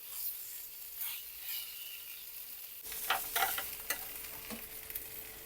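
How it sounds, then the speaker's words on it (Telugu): Fish shallow-frying in a hot pan for a fish mandi, a soft steady sizzle that turns louder and busier partway through, with scraping turns of the pieces and no voices. "ఈ విధంగా బాగా అటు ఇటు బాగా కాలే వరకు కూడా ఫ్రై చేసేస్తున్నా"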